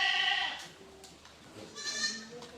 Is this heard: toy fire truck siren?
no